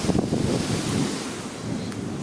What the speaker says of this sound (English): Now the wind's back.